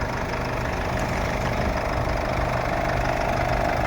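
A Mercedes-Benz E300 petrol engine idles steadily, a continuous smooth rumble with a faint mechanical hum, heard close and alone throughout.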